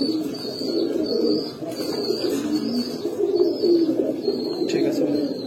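Baghdadi Homa pigeons coo in soft, repeated low murmurs close by, with occasional higher chirps and some background voices.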